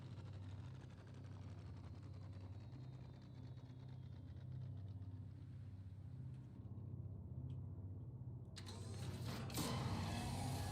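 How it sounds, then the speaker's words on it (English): Idling tank engines in the Star Citizen video game give a low, steady mechanical rumble with faint creaks. It is quiet and continuous, with a brief drop in the upper noise and then a rougher swell near the end. "I probably should have turned the engines off in that tank."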